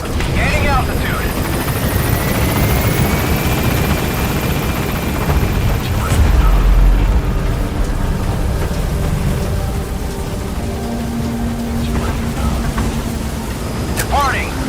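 A helicopter lifts off and gains altitude in the video game Metal Gear Solid V: The Phantom Pain, its steady rotor roar loud throughout under radio voices, with a heavy rumble swelling midway.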